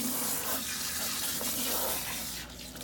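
Water runs steadily from a salon tap while black hair dye is rinsed out of hair, a constant hissing splash with a slight shift near the end.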